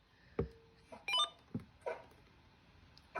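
A RadioShack PRO-136 scanner radio gives off a sustained electronic tone, then a quick run of short stepped beeps, separated by soft button clicks and thumps; quiet and close, with no talking.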